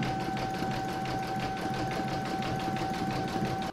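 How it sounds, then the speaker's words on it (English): An embroidery machine stitches round 10 of an in-the-hoop table topper, its needle thumping in a fast, steady pulse over a constant motor hum. It runs alone at moderate volume and cuts off abruptly at the end. "I'm going to pop that into my machine and stitch round number 10"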